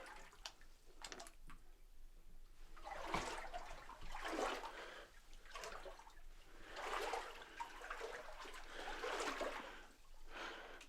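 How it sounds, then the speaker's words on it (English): Someone wades through cold water in the flooded Middlemarch Mine, making repeated sloshing, splashing surges every second or two, close and fairly soft, with a thin trickle beneath and no talking. "I'm just walking through the water."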